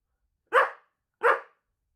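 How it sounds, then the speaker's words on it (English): A dog gives two sharp, evenly spaced barks, close and loud, with silence before, between and after them. "What does a dog say? Woof."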